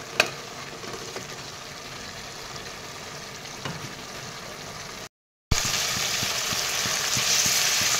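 Taro and fish curry with added water bubbles and sizzles in a pan while being stirred, a steady close frying hiss with a brief cut midway, then a louder, brighter sizzle.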